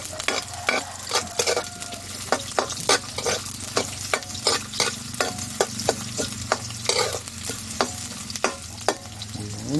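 String beans and egg cook together in a pan, a steady sizzle broken by regular scraping stirs of a utensil against the pan, close and unvoiced, in a rough rural kitchen.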